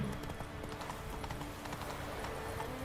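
Roach, a horse in The Witcher 3: Wild Hunt on PS4, gallops with a steady, rapid clip-clop of hooves close by, continuous throughout with a dense rumbling low end.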